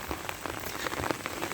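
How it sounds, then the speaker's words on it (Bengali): Light drizzling monsoon rain patters steadily on surfaces nearby, a dense even spray of small drops with scattered louder taps and no voices. "এখন অবশ্য একটু রিমঝিম বৃষ্টি হইতেছে"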